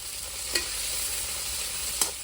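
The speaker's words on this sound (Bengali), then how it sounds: "এবার রসুনের কোয়া 15-20টা, একসঙ্গে ভেজে নেবো পেঁয়াজের সঙ্গে।" Onions, dry red chillies and whole cumin sizzle steadily in a hot pan, with two brief scrapes of a stirring spoon cutting through the continuous frying hiss.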